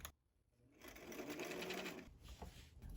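A home sewing machine running a straight stitch along a king-size pillowcase hem, a close, fast whirring motor hum that starts after a brief pause and runs continuously, no voices.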